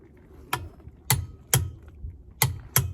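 Sharp metallic clicks from a torque wrench tightening RV wheel lug nuts to 100 foot-pounds, five distinct snaps over three seconds, some in quick pairs, close and loud.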